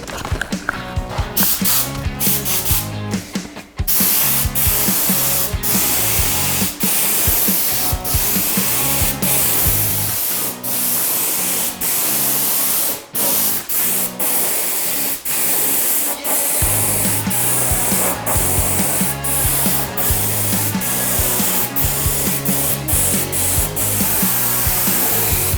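Loud paint spray gun hissing in bursts while painting a vintage steel bicycle frame, with short pauses between passes and a mechanical pulsing hum underneath.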